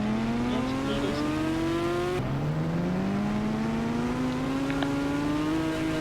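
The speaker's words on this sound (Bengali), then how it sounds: "এখানে চলে এসছে কাওয়াসাকি নিনজা। দেখি চালিয়ে একবার।" Kawasaki Ninja motorcycle ridden in a video game: a loud, steady engine whine climbs in pitch, drops sharply at one gear change, then rises again and keeps building, with no voices.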